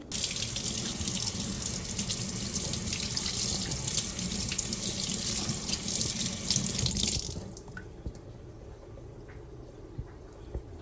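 A tap runs steadily into a sink as a face pack is washed off, a full close splashing gush for about seven seconds that then cuts to a much quieter trickle with faint drips.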